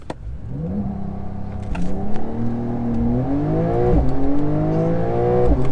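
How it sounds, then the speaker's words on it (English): A 992-generation Porsche 911 Carrera S launches in sport mode. The engine roars loudly from inside the car and climbs through several rising gear pulls, with brief dips at each upshift. "For launching the 911 Carrera S, pretty simple."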